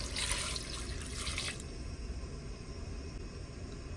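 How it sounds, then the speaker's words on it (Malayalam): Water pours into a cooking pot in a short, splashing stream for about a second and a half, then stops, leaving quiet room hiss. "വെള്ളം പാർന്നു കൊടുക്കാം"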